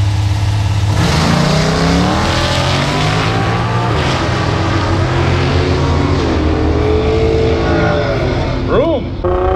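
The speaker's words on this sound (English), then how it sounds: "You hear him purging the line?" A twin-turbo LS Nova drag car at a Powercruise roll-racing event, its engine roaring loud and steady as it purges nitrous and accelerates, with a voice talking over it.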